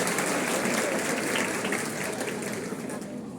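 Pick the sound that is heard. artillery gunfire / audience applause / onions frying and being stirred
audience applause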